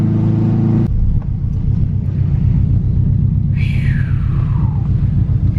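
Deep, steady exhaust rumble from a big-turbo Subaru WRX with a catless Blitz NURR Spec exhaust, loud and close throughout, with a brief higher whine sweeping down near the end.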